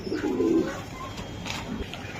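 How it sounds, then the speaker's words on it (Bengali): A racing pigeon coos up close, with one low throaty coo followed by softer murmuring calls and faint background chirps. "এই যে দর্শক আমি কবুতরটা দেখাই।"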